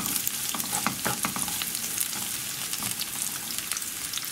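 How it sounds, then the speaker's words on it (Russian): Coarsely chopped onion sizzles and crackles steadily in a hot pan, a dense hiss of pops and spatters up close, with no voices. "Первое, что мы делаем, это отправляем в нашу сковородочку крупно нарезанный лук."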